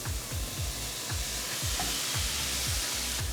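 Vegetables for a vegan bolognese sizzle in a pot while being stirred, giving a steady close hiss with a repeating scrape of the spoon roughly every third of a second.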